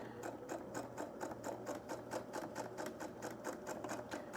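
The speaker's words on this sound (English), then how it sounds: "We are going to stitch 1/8 of an inch all the way around." Sewing machine topstitching close to the edge around a fabric scrub cap, running at a steady pace with a rapid, even, loud mechanical clatter and no talking.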